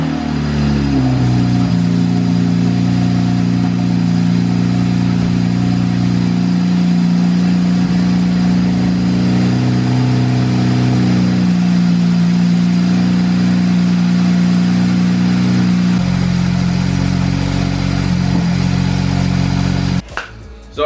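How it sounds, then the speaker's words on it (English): A BMW 335i engine fires up after an aftermarket oil cooler install and settles into a steady, loud, close idle with a low droning hum. The idle shifts slightly partway through. "now we can plug the coils back in and start it up"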